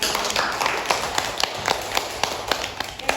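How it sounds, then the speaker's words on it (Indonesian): A small group clapping their hands in a teacher-training classroom assessment, fairly close and steady for a few seconds, with brief uneven sharp claps. "Tepuk tangan untuk kelompok 3"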